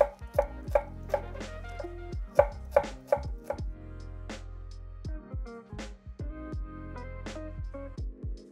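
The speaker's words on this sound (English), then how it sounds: "Let's get these all diced up into a fairly consistent size and then we'll start a ferment." A knife dices vegetables for a ferment, chopping on a board in quick close strokes that come in bursts, some sharp and some softer, with short pauses between runs and no talking.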